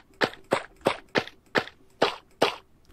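A custom modded lily pad is placed in Minecraft, a game sound of seven crisp, identical plopping clicks that repeat at an even pace about every third of a second, close and clear with no talk.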